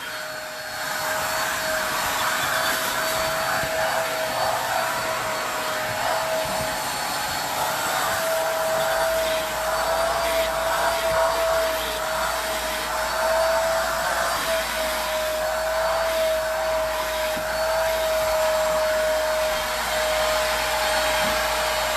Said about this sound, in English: Vacuum the back of them.